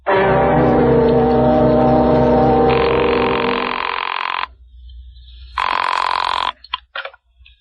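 A telephone rings loudly in long, sustained electronic bursts: a continuous ring of about four seconds, a pause, then a shorter second ring, followed by brief clicks.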